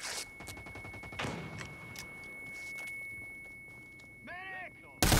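Gunfire and a grenade blast in the America's Army combat game: bursts of shots crackle through the first seconds with a sharper crack near the middle, a warbling electronic tone near the end, and a loud hit right at the close.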